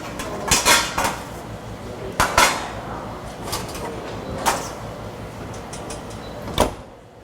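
Metal pans clatter and clang repeatedly in a butchery class kitchen, with several sharp, close knocks and scrapes spread unevenly over a few seconds and quiet background noise between.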